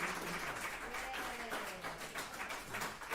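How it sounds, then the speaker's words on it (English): Applause greets the finalists of the 2023 American Pianists Awards in a studio in New York City, a steady dense patter of clapping heard throughout at an even level. "Round of applause."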